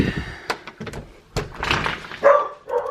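A garage door rattles and bangs open with scraping and thumps, while a dog barks in short bursts nearby.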